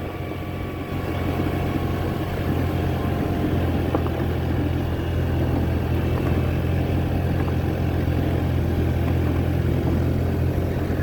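A motorbike engine drones steadily on a gravel road, a low continuous rumble that stays close and even throughout, with light crunching texture and no talking.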